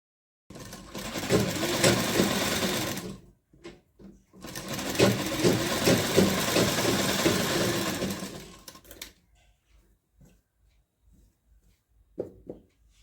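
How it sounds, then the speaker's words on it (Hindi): A sewing machine runs in two long continuous bursts, stitching a fine seam along the edge of lined blouse fabric, with a short pause between runs and quiet handling afterward. "यहाँ पे किनारे एकदम बारीक वाली सिलाई पूरी में लगा लेंगे"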